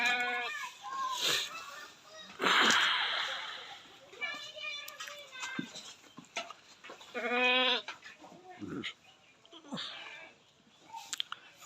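A pregnant Sirohi goat bleats several times in a quavering run, close and fairly loud, with voices and farmyard bustle between the calls.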